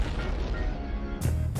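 A loud blast goes off in a stunt performance by a Vietnamese stunt team, with a rumbling roar and then two sharp bursts close together near the end.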